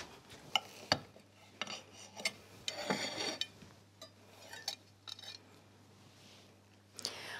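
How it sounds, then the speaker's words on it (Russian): A knife taps and scrapes against a plate while cutting a gluten-free almond pie, a few sharp clinks and soft crunchy cuts, quiet and close, with no talking. "я режу пирог"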